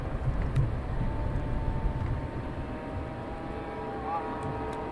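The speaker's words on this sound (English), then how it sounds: "it's a motorbike." A motorbike on a road near an airport at night, heard as a steady, continuous low engine rumble with a faint rising whine, fairly loud and constant against the ambient night noise.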